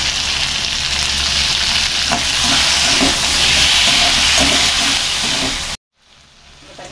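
Onions and tomato sauté on a hot pan for chutney, giving a loud, steady sizzle and hiss with occasional stirring scrapes, then cutting off abruptly near the end.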